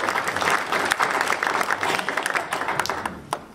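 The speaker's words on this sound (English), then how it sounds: "let's give them a round of applause" A church congregation applauds during an Easter Sunday service, steady crowd clapping throughout with a few sharper individual claps standing out, easing slightly toward the close.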